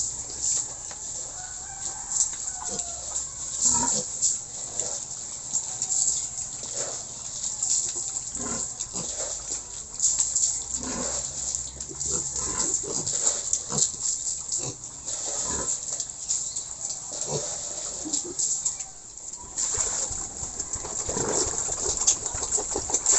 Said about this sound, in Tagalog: lagyan ko lang ng pagkain guys kasi pagkain naman ng mga baboy na ito eh